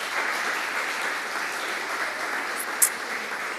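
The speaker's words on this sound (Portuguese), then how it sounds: "Você pode aplaudir mais uma vez ao Senhor?" Applause from a church congregation, a steady wash of many hands clapping at moderate level with one sharp louder clap near the end.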